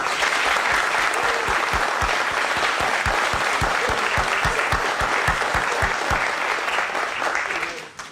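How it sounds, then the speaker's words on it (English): A crowd at a groundbreaking ceremony for a NOAA base in Newport, following the national anthem and a Navy color guard, breaks into loud, sustained applause with dense clapping that fades away at the close. "Let's give them a round of applause."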